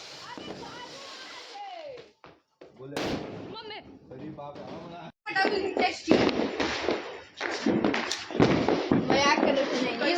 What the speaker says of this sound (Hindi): तो अब मैं पटाखा जला रही हूँ और ये मुझे डरा रहे थे।